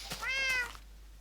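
A cat in the video game Minecraft gives a single clear meow, a short rising-falling call lasting about half a second, alone with no talk, then fading to silence.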